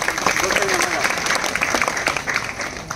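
Steady applause from a crowd at a Shri Swami Samarth centre talk, dense clapping sustained for a few seconds with a voice faintly underneath.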